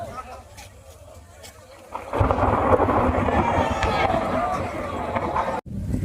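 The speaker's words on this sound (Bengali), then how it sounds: "এত মেঘ গুড়গুড় করছে" Thunder rumbles through a heavy storm, starting as a soft distant murmur and then swelling into a loud, sustained roll with rain noise, before a sudden brief drop near the end.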